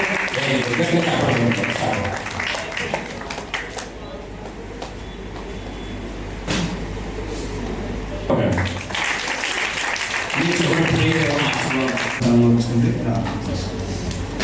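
An audience at a church Vacation Bible School day event breaks into a burst of clapping in the middle, between stretches of loud amplified talking.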